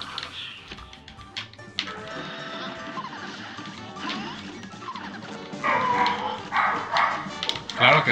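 Female pet dogs barking repeatedly indoors, sharp yips and barks rising louder toward the end over a busy background with people talking.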